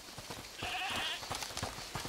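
A goat bleats in A Plague Tale: Requiem, one drawn-out wavering cry rising over faint footsteps and soft background ambience, fairly quiet.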